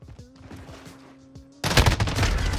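Burst gunfire in the video game Modern Warfare: a quick rhythmic string of light shots is followed by a sudden, louder sustained volley of rapid automatic fire at close range.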